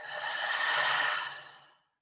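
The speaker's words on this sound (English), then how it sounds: "Now take 3 deep inhales. Inhale in and exhale." A single deep, slow breath, drawn in and let out as a soft airy sigh during a guided Reiki meditation, near and quiet, fading to silence.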